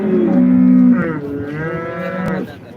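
An HF cow at the Modnimb cattle market gives one loud, close, drawn-out moo that falls in pitch before fading, with faint market noise behind it.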